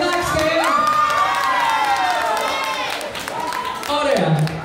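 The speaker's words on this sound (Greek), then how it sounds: "Θέλω να ακούσω πολύ δυνατό χειροκρότημα μόνο από τις γυναίκες" Women in a live audience cheer and scream loudly with some clapping, a sustained crowd roar with rising high-pitched shouts that swells again near the end.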